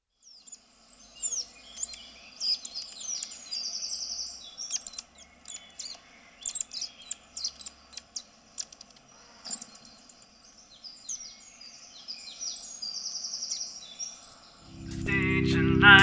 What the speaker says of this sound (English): We're looking for birds in our backyard.